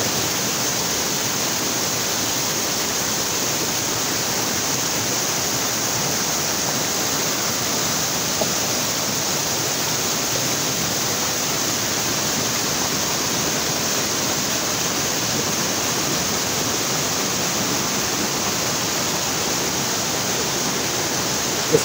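A fast mountain stream flows under pressure between rocks beneath the trees, a loud, continuous rushing roar of water that stays steady and unbroken throughout, with no voices heard.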